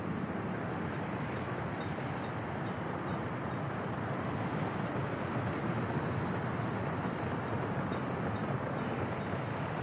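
Trains rolling through a crowded rail station in the city-building game Workers & Resources: Soviet Republic, a steady low rumble of wheels and wagons with faint metallic squeals, continuous and fairly quiet.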